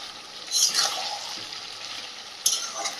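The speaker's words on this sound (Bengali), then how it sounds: "তো মাংসটা বেশ ভালো করে কষিয়ে নিয়েছি" Home-raised country chicken browning in a little oil in a kadai, giving a steady close frying hiss with stirring scrapes and a couple of louder sizzle bursts.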